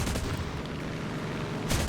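Aircraft guns fire in a World War II dogfighting video game with P-47 fighters, a dense rattling burst that sounds like continuous rumbling gunfire throughout and ends in a louder final burst.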